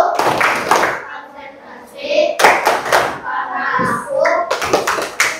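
Children in a primary school classroom clap a rhythmic focus chant together, with bursts of group clapping alternating with chanted voices at close range.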